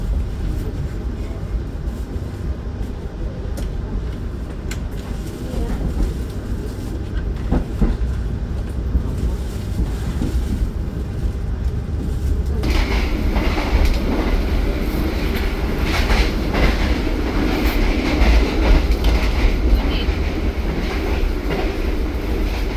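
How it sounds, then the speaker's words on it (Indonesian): An Argo Cheribon passenger train runs toward Jakarta, heard from on board as a steady loud rumble and rolling rail noise that grows stronger and brighter partway through, with clicks from the track. "kereta api Argo Cirebon kini sedang berlari menuju Jakarta"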